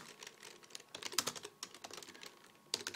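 Rapid, irregular clicking of keys on a computer keyboard as words are typed, fairly close and quiet, with a few louder keystrokes and no voices.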